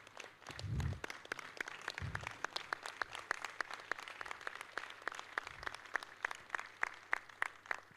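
Scattered clapping that grows into a thin, steady round of applause for the chairman at an annual general meeting, fairly faint and distant, with a few low thumps early on.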